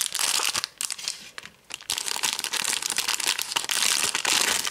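Plastic pouch sealed with tape being opened for homemade cosmic slime, giving loud, close crinkling and crackling with quick tearing bursts, nearly continuous with a brief lull, no talking.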